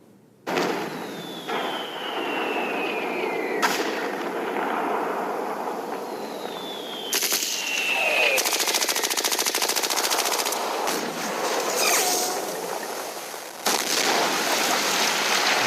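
Rapid bursts of Civil War battle gunfire for a radio drama, with sustained machine-gun-like volleys, crackling shots and whistling projectiles, loud and continuous throughout with no voices.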